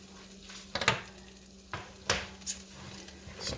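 Beef round steak sears in a pressure cooker with a low sizzle, broken by clanks and scrapes of a utensil against the metal pot at uneven intervals.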